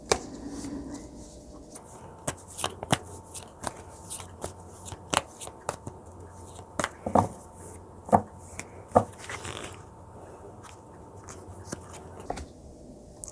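Tarot cards being shuffled by hand, a steady run of crisp riffling snaps and soft slaps close up, with no talk over them.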